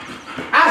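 A working dog gives a single short bark near the end, sharp and fairly loud after a brief quiet stretch.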